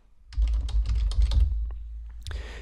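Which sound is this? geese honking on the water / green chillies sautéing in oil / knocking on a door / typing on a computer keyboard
typing on a computer keyboard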